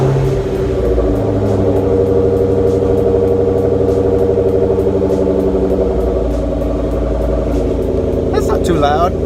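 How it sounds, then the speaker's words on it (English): A Ford Mustang Mach 1 V8 fires from a cold start and settles into a loud, steady, deep exhaust rumble that holds throughout, with a brief higher-pitched rattle near the end. "I'm currently in the car right now, and I'm gonna go ahead and start it up"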